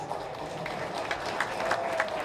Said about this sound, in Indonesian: Ayo tepuk tangan yang keras.